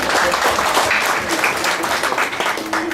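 Audience applause at a church gathering, a dense wash of clapping running steadily for the full stretch at fairly loud level, with a faint tone near the end.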